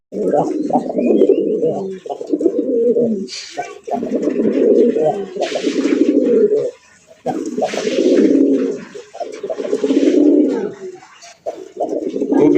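Native Bengali deshi pigeons coo in low, throaty bursts that repeat steadily and close by, with brief pauses between the rolling calls.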